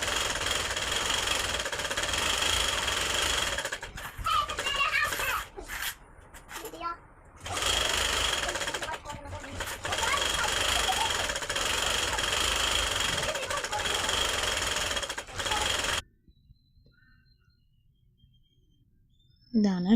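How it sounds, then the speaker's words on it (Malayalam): A sewing machine stitches the hem of a nighty in a long, close, steady run of fast mechanical chatter with brief pauses, then stops, leaving near silence and a faint final clunk. "ഫുള്ളായിട്ട് റൗണ്ടിലൊന്ന് സ്റ്റിച്ച് ചെയ്തെടുക്കാം."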